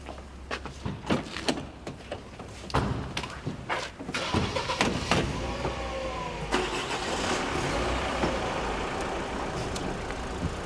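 A car door thuds a few times, then an engine starts and the car pulls away, its rumble building and holding steady nearby.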